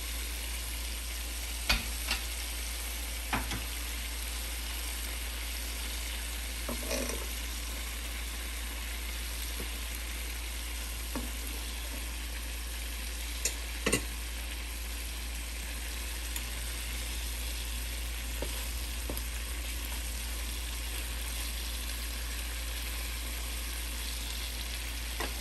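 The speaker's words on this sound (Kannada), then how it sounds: "ಈಗ ಮತ್ತೆ ಕವರ್ ಮಾಡಿಬಿಟ್ಟು ಇನ್ನೊಂದು 10 minutes ಫ್ರೈ ಮಾಡೋಣ" Honey garlic chicken drumsticks fry in butter in a covered pan, a low steady sizzle under a constant hum, broken by a few sharp lid or utensil clicks spaced across the long stretch.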